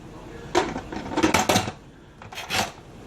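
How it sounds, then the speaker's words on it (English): Chili stirred inside a Power Pressure Cooker XL pot, with a few bursts of scraping and clinking of a utensil against the metal pot, moving contents from bottom to top, close and moderately loud. "stir up all the stuff from the bottom to the top, make sure it's mixed up nice and good"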